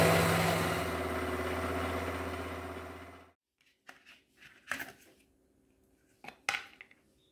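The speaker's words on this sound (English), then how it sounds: "These French fries are pretty hard to blend" A blender grinds thawed French fries with a loud, steady motor whir for about three seconds, then cuts off abruptly, followed by a few sparse knocks and clinks.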